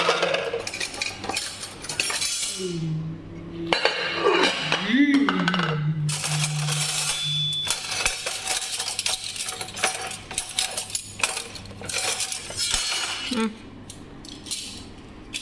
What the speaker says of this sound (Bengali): দেখেন চামচ গুছাই কেমন একটা একটা করে রাখবো